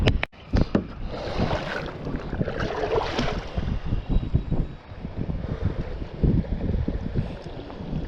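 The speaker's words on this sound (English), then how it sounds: "Didn't think it's be this windy today." Wind gusting across a microphone while kayaking on a creek in spring: steady rough rumble and buffeting that swells and drops, with a few sharp knocks near the start.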